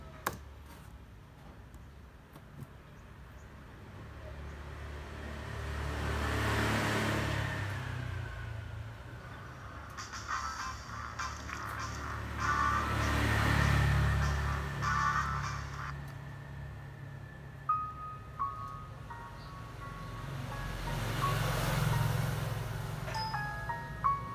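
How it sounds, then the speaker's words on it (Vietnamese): Outdoor car traffic, with vehicles passing at a moderate distance in slow swells of engine and tyre rumble about every seven seconds, plus faint ticks and clicks close by. "mình đang quay ở ngoài nên tiếng xe hơi ồn ha"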